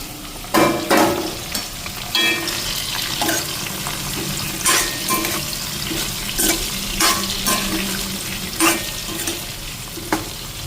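Brinjal and potatoes fry in hot oil, giving a steady close sizzle broken by a series of stirring scrapes and clatters, with no talk over it.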